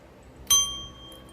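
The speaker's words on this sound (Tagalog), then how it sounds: "Ring the bell." A cat doing a trick strikes a small bell once, giving a single clear ding that rings on briefly over a quiet room.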